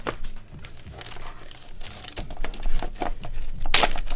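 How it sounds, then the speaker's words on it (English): Plastic Ziploc bags being pulled off and removed from a box of vintage Sunshine Mining silver bars, close crinkling and rustling throughout with a louder burst near the end. "we're going to get rid of the Ziplocs, because nobody wants to stare at plastic"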